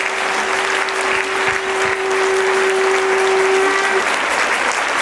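Sustained applause from a large congregation at a church retreat, a loud, unbroken roar of clapping hands holding steady, with a steady electronic hum running beneath it for most of the stretch.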